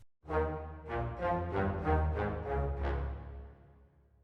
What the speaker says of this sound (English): Let's check out a more advanced algorithmic reverb, and this one I really like is FabFilters Pro R.